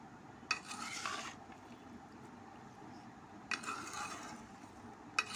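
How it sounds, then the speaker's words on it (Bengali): Spiced duck meat curry being mixed in a pan, with two bursts of stirring and scraping at the start and middle and a brief clatter at the end, over a steady low background. "এখন মাখামাখি করে নিয়ে ছড়াই"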